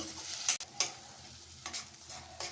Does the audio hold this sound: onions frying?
yes